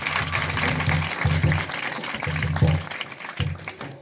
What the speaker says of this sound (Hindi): जोरदार गोड़ ताली मारी प्रभु को धन्यवाद देबा